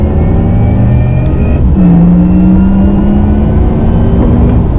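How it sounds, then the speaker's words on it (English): A Porsche Taycan accelerates with a smooth, rising synthetic whir, its augmented electric drive tone swelling steadily over a low road rumble. "There we go, that's the Taycan sound."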